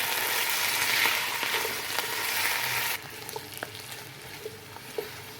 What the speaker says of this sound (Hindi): अब हम 2 मिनट आलूओं को भी फ्राई करेंगे इसके साथ।